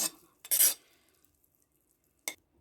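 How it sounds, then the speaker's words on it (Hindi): Dry vermicelli tipped into a large bowl, giving a short rustling pour and a second quick rattle a moment later, with quiet pauses between. "अब मैंने एक बड़ा सा बोल लिया, उसमें मैं सुरैयाँ डाल दूँगी।"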